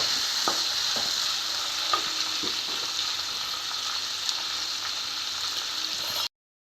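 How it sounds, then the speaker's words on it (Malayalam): Chopped tomatoes sautéing in a hot pan for a rustic egg curry, with a steady close sizzle and occasional scraping stirs of a spoon, no voices. "ആ തക്കാളിക്ക് കൂടെ അതിനകത്തേക്ക് ഇട്ടു നല്ല പോലെ ഇതെല്ലാം കൂടെ ഒന്ന് വഴന്നു വരണം"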